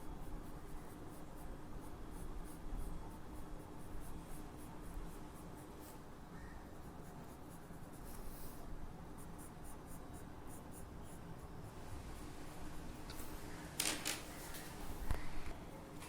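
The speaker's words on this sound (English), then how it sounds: "Now I'm going to draw the fire." Coloured pencil scratching steadily across paper as a drawing of a fire is outlined in red, a close, soft, continuous scraping with rhythmic strokes and a couple of brief louder rustles near the end.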